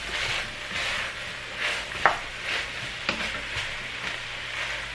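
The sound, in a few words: sauteing leeks, celery and onions in a pan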